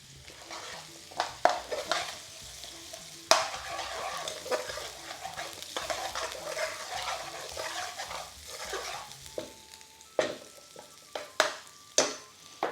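Pre-cooked onions for a lamb curry sizzle and fry in a pan, stirred with frequent sharp clinks and scrapes of the utensil against the metal, the frying crackle rising and falling.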